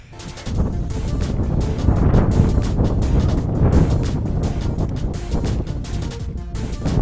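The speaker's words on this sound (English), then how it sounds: "we're right near the top and we're super exposed to the wind." Strong wind buffets the microphone near the exposed summit of Hollow Mountain in the Grampians, Australia, a loud steady roar with gusty swells that rises sharply after a brief quieter start.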